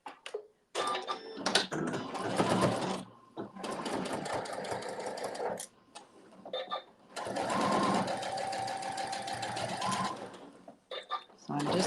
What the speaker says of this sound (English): now we're going to be stitching right on that basting stitch